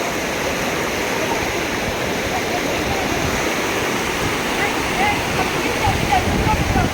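Rushing flood water current: a steady, loud, broadband roar of churning water throughout, with no break, while a voice speaks faintly beneath it.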